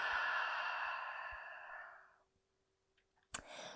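A long, deep exhale after a full inhale during a strength yoga class, heard as a steady breathy rush that fades out over about two seconds, followed by near silence and a sharp click.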